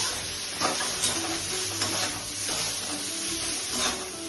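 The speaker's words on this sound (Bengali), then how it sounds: "টমেটো দিচ্ছি, কাঁচা লঙ্কা দিচ্ছি, দিয়ে এইভাবে মশলাটাকে কষিয়ে নিচ্ছি, সবজিগুলোকে কষিয়ে নিচ্ছি।" Spices, tomato and green chili sautéing in a pan for a hilsa fish head and tail curry: a loud, continuous close sizzle with regular spatula strokes and scrapes, no talk.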